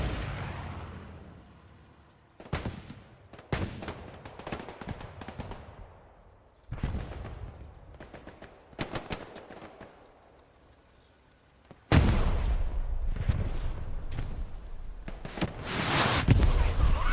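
Gunfire and a rocket blast in the Hell Let Loose video game, with sharp shots and bursts scattered through the first half, then a sustained loud roar of explosions and heavy fire in the final five seconds.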